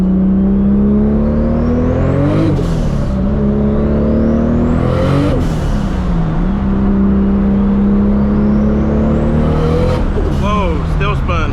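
A 1000-horsepower Supra on street tires revs hard and spins its wheels, engine note rising and falling through repeated bursts with a tire-scrub roar, loud and close, while people talk excitedly over it.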